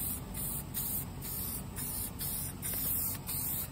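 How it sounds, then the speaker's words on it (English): Steady aerosol hiss from a spray can, close and continuous, broken by brief pauses into several bursts. "You don't want to spray your seat too much or else you'll slide off of it mid-wheelie."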